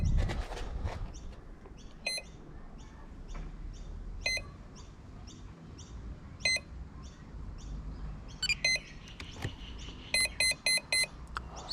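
Radio-control transmitter binding to a Carl Goldberg J3 Cub 2.1m model plane, giving a series of short electronic beeps that cluster into rapid triple chirps near the end, heard over faint background noise with no voices.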